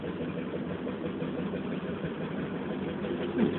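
A vintage M3 Stuart light tank with a big exhaust at the back, shown at a machinery rally, runs its engine in a steady low rumbling idle. The sound is continuous and fairly loud, with a slight swell near the end and no talk.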